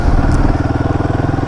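Royal Enfield Himalayan 450 motorcycle riding through town, its single-cylinder engine giving a steady, loud, close pulsing thrum with a regular rhythmic beat throughout.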